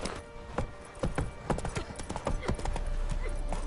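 Hooves of the horse Roach galloping in The Witcher 3, a quick, uneven clip-clop rhythm that grows denser and steadier toward the end, close and fairly loud.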